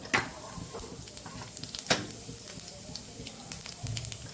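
Cumin seeds sizzling in hot oil in a pan, a light continuous crackle with sharper pops and a few louder bursts, close and moderately loud with no talking.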